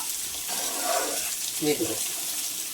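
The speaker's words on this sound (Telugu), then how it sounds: "ఇప్పుడు మనం వడకట్టి నీళ్ళైనా బయట పారిపోసేస్తాం" Water being strained and poured off boiled beetroot in a home kitchen, a steady splashing, running-water rush with a couple of brief swells, fairly close and moderately loud.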